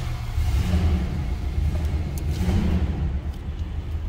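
A 1968 Chrysler Imperial Crown with its 440 V8 idling, a steady low rumble that swells briefly near the start and again midway, close and continuous with no talk.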